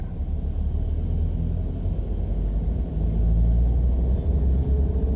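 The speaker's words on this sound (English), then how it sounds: "This is a kid's bus." A school bus rolls past as a steady low engine rumble that swells slightly louder toward the end, heard alone without talk.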